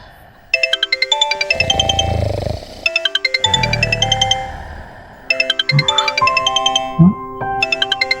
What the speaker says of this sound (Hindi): प्रिंसिपल का फोन इस टाइम?